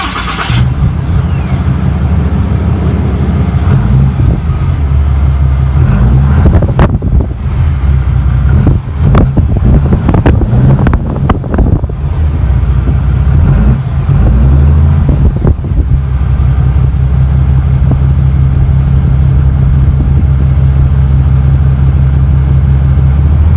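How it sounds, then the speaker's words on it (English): A Cummins diesel engine in a 2019 RAM 3500 dually truck turns over and runs at a loud, steady, low idle, heard close from behind, with a brief dip and recovery midway. "We're going to do a quick startup on the engine to see how it sounds from behind."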